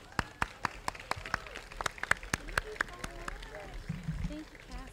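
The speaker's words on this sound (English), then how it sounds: "Please clap your hands and welcome our mistress of ceremony" A modest audience at a cultural celebration claps to welcome the host, sharp separate claps at first that thin out, with talking voices rising underneath toward the end.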